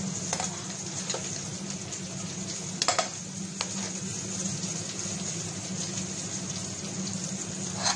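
Onions sizzle and fry steadily in a hot pan while beans fried rice is being made, with a few sharper clinks and scrapes of stirring near 3 seconds; continuous, fairly close, and no talking.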